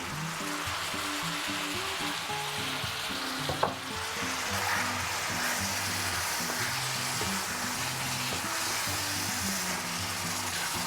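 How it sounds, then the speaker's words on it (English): Fresh tomatoes and tomato sauce sizzling and frying in a pan for a quick Bolognese sauce, a steady loud hiss with occasional stirring and a brief clink. "Now we can add the fresh tomatoes and the tomato sauce."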